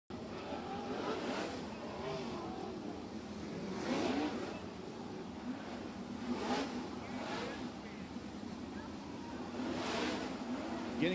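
410 sprint cars circle a dirt oval under caution at the NARC season opener, engines droning and swelling in repeated passes at moderate distance, with a voice talking over them.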